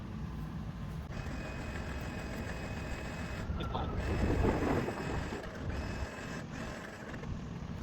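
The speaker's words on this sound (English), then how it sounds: "Now I'm going to spool the line in using the wireless remote." Vevor 13,500 lb synthetic rope winch on a Hummer H2 front bumper, operated by wireless remote, spooling in line with a steady mechanical whir and hum, punctuated by brief pauses and clicks.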